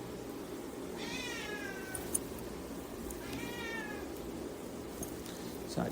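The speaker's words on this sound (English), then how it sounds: "there is a cat outside the door." A cat meows outside a door, two drawn-out meows a couple of seconds apart, heard at a moderate distance over a steady low room hum with a few faint clicks.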